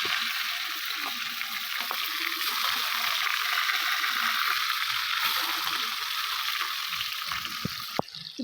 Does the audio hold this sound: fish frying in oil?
yes